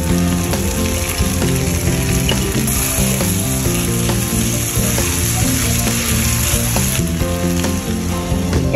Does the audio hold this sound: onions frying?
yes